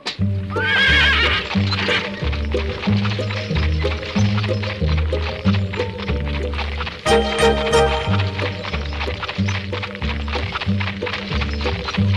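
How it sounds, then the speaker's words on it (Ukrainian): A horse pulls a carriage, whinnying loudly early on while steady clip-clopping hooves run throughout, close and prominent, with a busy musical background. "А я поки заведу коня з бричкою на подвір'я."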